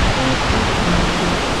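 Steady broadband roar of a waterfall in Guatemala, a dense continuous rush of falling water close by, loud and unbroken with no voices.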